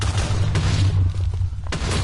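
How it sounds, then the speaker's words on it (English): Loud, dense booming explosions in the AvengeTech prison video game, heavy thuds rolling together over about two seconds with a brief lull before another blast. "Here there's a lot of explosions."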